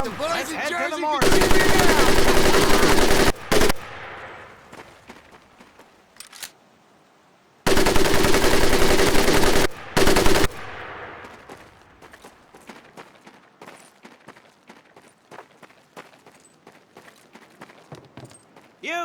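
Bursts of a 30 caliber machine gun in a World War II training scene from Medal of Honor Pacific Assault: two long, loud stretches of rapid automatic fire, each ending in short extra bursts, with quieter clicks and shuffling in between.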